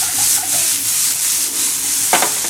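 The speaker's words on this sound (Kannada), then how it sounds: "ಚಂದ ಫ್ರೈ ಆಗಲಿ." Soya chunks sizzle and fry in a hot pan while a spoon stirs them, with a brief scraping clatter near the end of the steady frying hiss.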